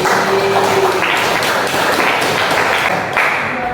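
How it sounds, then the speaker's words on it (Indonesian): A short burst of classroom applause, many hands clapping briskly and loudly for a few seconds, fairly close. "Tepuk tangan untuk kita sendiri"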